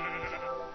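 A sheep in Minecraft gives a single short, close bleat that fills the brief moment on its own.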